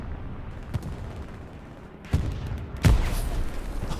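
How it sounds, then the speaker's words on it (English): During a Hell Let Loose match on the Stalingrad map, a grenade goes off with a sharp, loud blast, following a slightly weaker bang, over a low bed of distant battlefield gunfire. "Oh, grenade."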